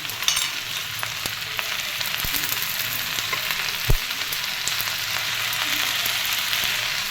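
Gongura leaves hit hot oil in a pan and fry with a steady, close hiss, a brief louder crackle near the middle and faint stirring scrapes.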